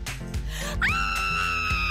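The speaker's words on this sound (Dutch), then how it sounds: "niet schreeuwen" A woman's high, sustained scream rises sharply and holds steady above a busy background, while a mother and daughter prepare lunch with a knife.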